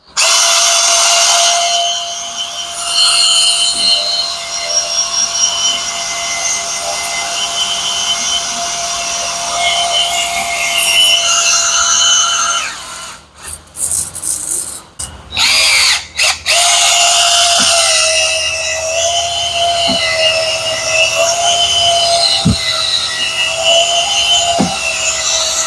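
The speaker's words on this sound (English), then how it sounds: "This one does have some pitting, so I'm going to run a ball hone through." A ball hone spins through the pitted bore of a log splitter's hydraulic cylinder, a loud, steady power-tool whir that runs for about twelve seconds, breaks up briefly in stops and restarts, then resumes with a strong, continuous drone.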